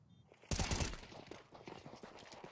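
A Counter-Strike match at a PGL Cluj-Napoca tournament: a loud burst of gunfire erupts, followed by rapid rattling shots and scattered footstep-like clatter that fades under the game mix.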